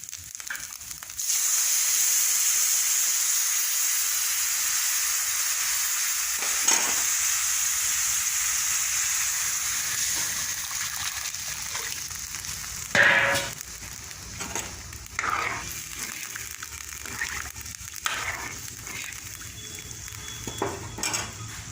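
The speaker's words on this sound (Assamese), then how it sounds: "এতিয়া এয়া টেঙেচি শাকৰ পানীখিনি মজাই ইয়াতে দি দিম" Tenga leaf water poured into a hot pan sets off a loud, sustained sizzle that hisses steadily for many seconds, with intermittent clatters of utensil and pan near the end.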